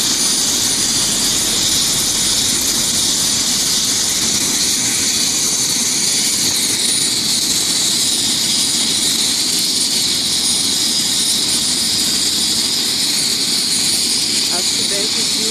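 A helicopter lands on the BR-101 highway at a motorcycle accident scene, its rotor and engine roaring loud and steady throughout, with voices faintly under the noise.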